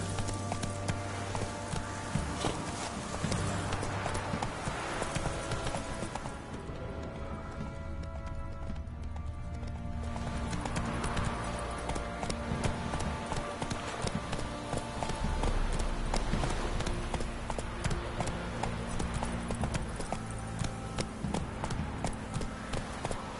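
Roach, the horse in The Witcher 3, gallops with a steady rhythmic clip-clop of hooves, loud and close, and a game music bed plays beneath it.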